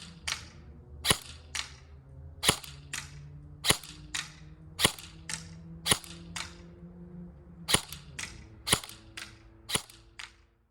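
A Krytac Trident MK II PDW airsoft rifle firing semi-auto 0.25 gram BBs at 25 yards, giving about fourteen sharp, snappy shots spaced roughly a second apart over a low background hum.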